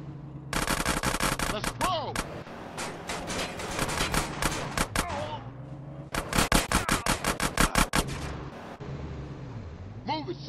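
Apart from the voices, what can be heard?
gunfire during drive-by in GTA San Andreas video game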